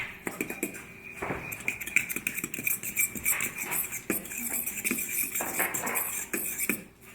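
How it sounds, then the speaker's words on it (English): A fork whisking dry ingredients in a bowl for apple cinnamon bread, with steady quick scraping and light clinking of metal against the bowl, moderately close and fairly quiet, with no one talking. "Now I'm going to whisk all the dry ingredients together with this fork."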